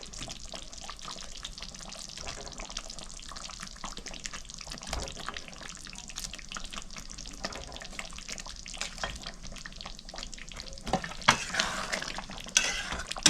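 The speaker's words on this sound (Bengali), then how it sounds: "মাছটা দিয়ে আমি ভালো করে মিক্স করে নিচ্ছি, মাছের এই পিঠ ওই পিঠ করে।" Rohu fish pieces are turned and stirred in simmering korma gravy with the heat on low: soft, continuous scraping and bubbling that stays fairly quiet, with a slightly louder, busier patch near the end.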